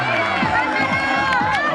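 Crowd of spectators cheering and shouting along a cyclocross race course in Picassent, with an excited, steady roar of voices and whoops that rise and fall over the short stretch, talk mixed in.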